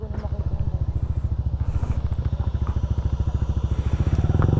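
A Honda ADV 160 scooter runs during a break-in ride, its engine giving a steady, rapid pulsing putter that grows slightly louder toward the end, heard close and alone.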